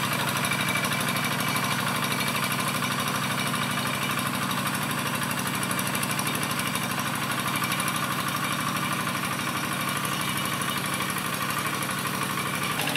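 A hand tractor engine runs while plowing a straw-covered rice field, a steady, loud, near mechanical drone with a constant throbbing rhythm and no voices.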